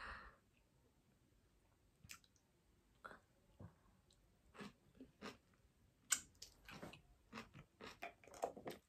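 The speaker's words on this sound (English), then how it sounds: "Sandy literally makes the yummiest kimchi, and this is literally heaven in my mouth. I want to try it." Someone eating homemade kimchi close to the microphone, with soft irregular bites, crunches and wet chewing sounds scattered over several seconds, quiet overall.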